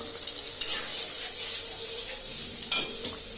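Frying masala in a pan crackles and sizzles as water goes in, with a few sharp stirring scrapes and utensil taps nearby, moderately quiet.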